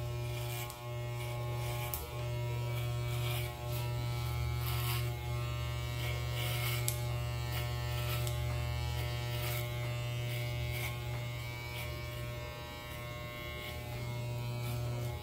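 Electric hair clipper fitted with a number 4 comb guard cutting hair in a traditional graduated haircut, a steady close buzzing hum running continuously throughout with slight texture changes as it passes through the hair.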